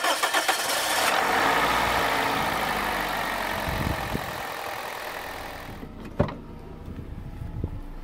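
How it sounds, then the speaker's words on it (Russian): A car engine cranks and catches, revving briefly before settling into a steady idle while warming to operating temperature for a solvent decarbonizing and oil system flush, with a couple of clicks and knocks near the end. "Заведем движок, чтобы нагреть его до рабочей температуры."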